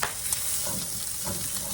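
A chopped medium onion, going into pork fried rice, sizzles in a skillet with a brief, steady, close frying hiss and a light stirring scrape.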